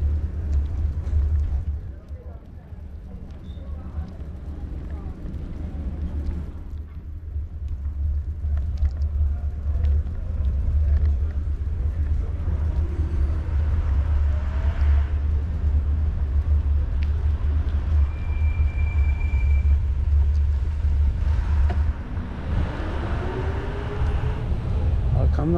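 A car moves along a residential street in the Camikebir neighbourhood, its low engine rumble rising and holding steadily for many seconds while a person talks nearby.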